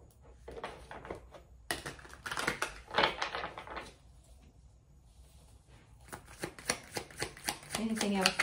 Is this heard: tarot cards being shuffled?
yes